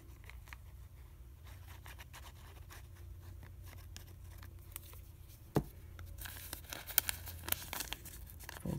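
Paper bag being folded and creased by hand after gluing, with soft crinkling and tearing-like rustles, sharper papery crackles near the end, close and fairly quiet.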